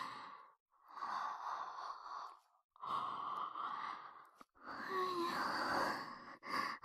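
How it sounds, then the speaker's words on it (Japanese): A sleepy, drawn-out yawn and breathy exhales from a woman in a quiet Japanese anime-style ear-cleaning roleplay, heard close up in several long breathy phrases with brief pauses between. "私もあくび映っちゃった。"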